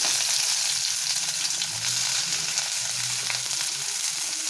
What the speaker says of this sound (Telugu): ఆయిల్ వేడెక్కిందండి కట్ చేసి పెట్టుకున్న ఉల్లిపాయ ముక్కలు వేసేసుకున్నామండి